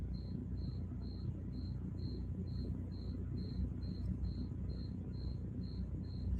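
A loud cricket chirps in a steady, evenly spaced series of about fifteen bursts, close by over a low background hum with no talking.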